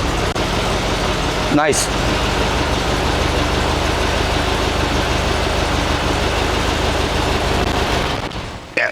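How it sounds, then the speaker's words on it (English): A 1971 VW Squareback air-cooled engine idles steadily and close by with a low, even rumble, a brief starter-like burst near the start, and a short spoken word over it. "Yeah, starter sounds good."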